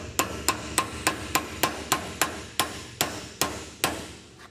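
Steel hammer blows drive a bearing cap into the cross of a double cardan joint on a 1996 Toyota 4Runner: about thirteen sharp, ringing metallic strikes at a steady pace, close and loud, with no talking.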